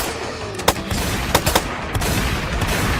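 Video game gunfire crackles in several quick, loud bursts over a dense, rumbling background of noise.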